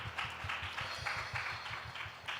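A church congregation clapping together in a steady, rhythmic beat during worship, even and moderately distant, with no talk.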